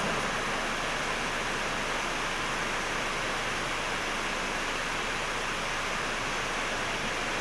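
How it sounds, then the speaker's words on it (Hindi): Steady, dense roar of heavy rain pouring continuously, a broad hiss filling the whole clip with no voices. "धूप निकली और पानी इतना तेज बरस रहा।"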